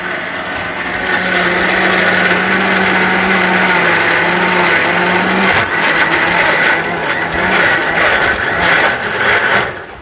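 An electric grinder whirs steadily while ginger and garlic are ground in a kitchen, a loud continuous motor drone with a high whine that shifts pitch midway and runs almost unbroken for about ten seconds.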